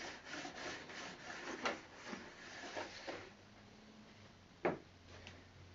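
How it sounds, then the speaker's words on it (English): A smoothing pad rubbed back and forth along model railway track in quiet, rhythmic scraping strokes, faint and close, ending with a single sharper knock. "I should give the track a quick rub down, just to be safe"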